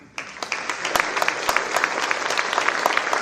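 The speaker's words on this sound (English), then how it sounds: "So you should applaud him right now." Applause breaks out at a school concert band performance, starting suddenly and quickly filling into a lively crowd of clapping hands with sharp individual claps standing out, moderately close.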